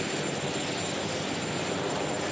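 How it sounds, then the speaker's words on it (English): Steady airplane cabin engine noise, a dense continuous broadband roar that stays even and loud throughout with no speech. "She's obviously on a plane."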